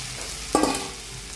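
Potatoes go into hot oil in a pan for a cauliflower, potato and prawn curry, giving one brief sizzling splash over a quiet hiss of frying.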